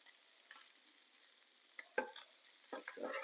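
Tuna fish pieces frying in a pan for kababs, a faint, quiet sizzle with a few soft scraping stirs toward the end.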